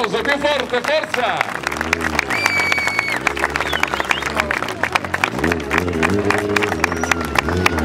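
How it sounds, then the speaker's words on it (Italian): Audience applause at the Motor Expo 2018 in Ariano Irpino, a dense crowd clapping and cheering that carries on throughout with a voice over the top. "L'applauso più forte, forza!"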